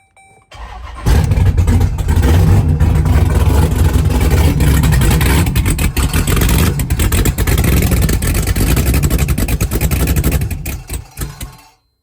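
A straight-piped, cammed Jeep SRT8 engine cranks and fires up, then idles loud and close with a lumpy, choppy rumble and occasional revs before cutting off near the end; no talking.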